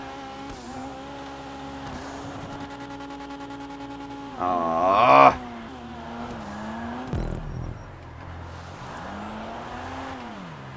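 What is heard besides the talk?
Dinka Jester Classic car driving in a video game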